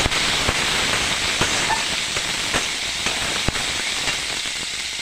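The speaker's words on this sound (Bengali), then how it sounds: "আমি এবার আলুটা দিয়ে দেবো ভাজার জন্য" Potato pieces fry in hot oil for a shrimp and banana-stem curry, giving a continuous close sizzle broken by scattered sharp pops and crackles, with no talking.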